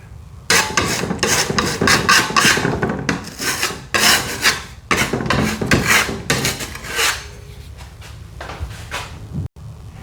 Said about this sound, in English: you may want to file edges with a rasp or some sort of a sanding sheet